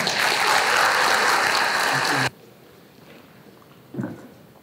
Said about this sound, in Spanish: Brindémosle un fuerte aplauso a Jorge Bedoya, por favor.